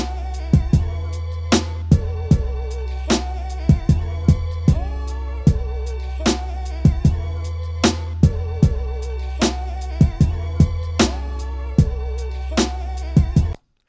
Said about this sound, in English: The first snare you hear on the 2-beat is going to be the original.